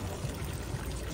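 Cold drinking water runs steadily from a public fountain in Kosovo, a continuous low pouring and trickling stream, fairly quiet and alone without voices.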